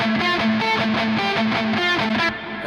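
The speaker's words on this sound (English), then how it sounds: "I just want to say I love how crunchy the lead is in that section." Heavily distorted electric guitar lead played through a Toneforge Jeff Loomis amp simulator, crunchy and saturated, with a steady run of sustained, rhythmically phrased notes that stays loud and dense before cutting off near the end.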